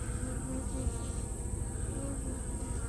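Dense, steady buzzing of many honey bees swarming close around an apiary hive fitted with a bee escape, a continuous drone with no talk.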